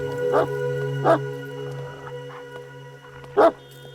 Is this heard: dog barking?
yes